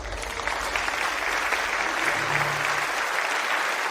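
Applause from wedding guests gathered at the mandap, a steady wash of many clapping hands throughout, with a low hum briefly underneath.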